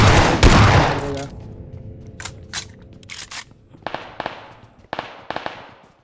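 Gunfire in a mobile battle royale shooter: a loud burst of shots opens, followed by scattered single cracks and short volleys, some sharp and close, others more distant, with no talking.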